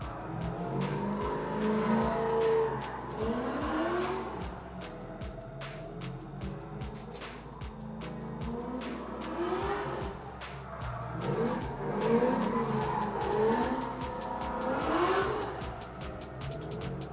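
Race cars at Orange Show Speedway during qualifying sweep past with rising and falling engine drones and intermittent tire squeal, a continuous busy roar heard from trackside with crackling static.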